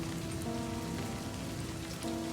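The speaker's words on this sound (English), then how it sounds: "Raindrops splatter on the page, leaving small wet stains." Steady rain falls outside a door in the demo of the game Livber: Smoke and Mirrors, a constant hiss of pattering drops under a soft sustained musical drone, no talking.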